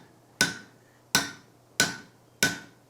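Four evenly spaced sharp hammer strikes drive a punch through hot forged steel on an anvil, each ringing metallic blow decaying quickly, close and alone.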